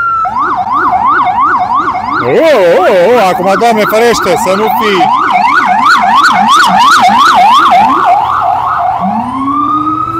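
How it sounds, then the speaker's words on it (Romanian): An ambulance siren passes close by in traffic, loudly alternating between a wavering wail and a rapid yelp before easing back into a slow wail, while someone talks over it. "iarăși trece o salvare și tot traficul se dă peste cap"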